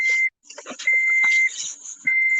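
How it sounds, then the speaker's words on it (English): An electronic beep sounds in three steady high-pitched tones, each lasting around half a second, separated by gaps filled with faint clatter and movement. "Oh, the beep."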